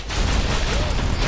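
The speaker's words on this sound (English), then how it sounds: "those rocket guys explode when they die" Dense, continuous booming gunfire and explosions from the BroForce video game, rocket enemies blowing up on death amid steady loud blasts, with no gaps over the short stretch.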